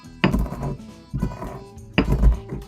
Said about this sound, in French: Je vais mettre du poivre noir, donc moi je l'ai qu'en grains. Je vais le casser un peu.